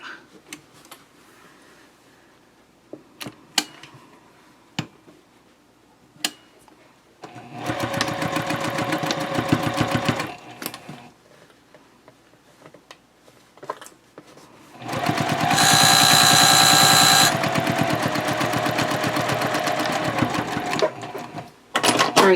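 A sewing machine stitching a half-inch seam on a triangle pouch lining, running in two loud steady bursts of rapid whirring separated by quieter ticks and handling clicks.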